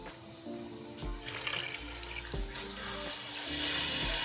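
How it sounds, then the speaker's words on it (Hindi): Water is poured into a pot of mutton cooking for biryani, a steady close splashing and rushing that swells toward the end, with a few soft clanks and no talk. "यहाँ पर मैं साथ ही पानी डाल दूँगा"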